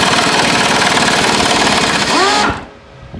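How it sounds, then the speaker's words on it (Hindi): A pneumatic air impact gun hammers loose a jammed suspension lower arm bolt on a Ford EcoSport, a loud, close, continuous rapid rattling that rises briefly and then cuts off abruptly, leaving a faint hiss. "अब एयर गन से ट्राई करेंगे और खुल गया।"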